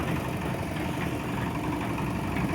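Iron Globe concrete mixer with a 350-liter drum, its engine idling smoothly: a steady, even low rumble and vibration holding at constant level throughout, with no voices.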